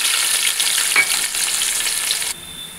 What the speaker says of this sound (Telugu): ఇప్పుడు కట్ చేసి పెట్టుకున్న 2 ఆనియన్స్ వేసుకోండి.